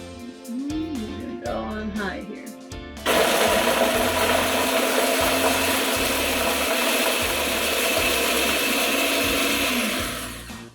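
A kitchen blender grinds dried meat for pemmican, starting with a few short choppy pulses before settling into a loud, steady whirring grind that runs for several seconds and then winds down.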